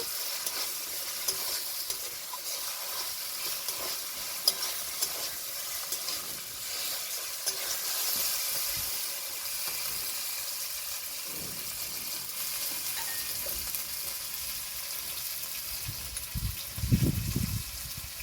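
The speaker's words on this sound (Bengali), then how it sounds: "এখন দিয়ে দেবো জিরে বাটা, ভালো করে কষিয়ে নেব।" Ground cumin paste with ginger and garlic frying in a pan, a steady close sizzle throughout with louder stirring and scraping near the end.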